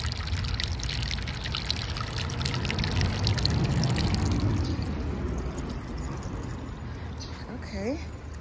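Steady rushing, trickling water at a hot spring in Hot Springs, Arkansas fills the scene, a broad continuous wash of flow with people talking over it now and then.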